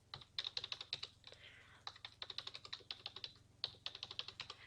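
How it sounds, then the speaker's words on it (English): Numbers being typed into an Excel spreadsheet on a computer keyboard: quick, steady clicking keystrokes close by with brief pauses between bursts, and no one talking. "I'm just going to type those in."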